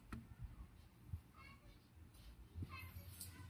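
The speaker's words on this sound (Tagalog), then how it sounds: "Ingay mga bata." Children playing nearby, their voices and shouts coming through faintly and intermittently in an indoor setting, low and distant, alongside scattered knocks and handling noises.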